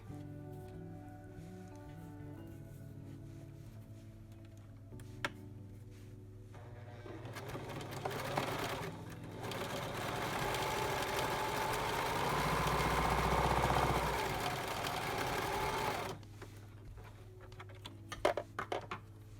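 A sewing machine stitches the center seam of a fitted face mask, heard as a steady mechanical whirring run in the middle of the clip, with quieter handling and idle hum before and after.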